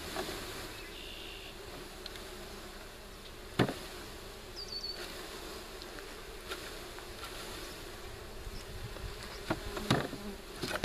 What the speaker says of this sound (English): There's a mass of bees around the queen cage